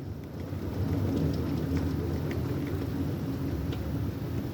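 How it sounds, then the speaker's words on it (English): Steady rain pours during a strong thunderstorm under a wall cloud in Oakland, a dense, even wash of noise with a low rumble underneath and no voices. "Now it's raining."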